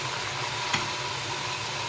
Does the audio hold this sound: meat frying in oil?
yes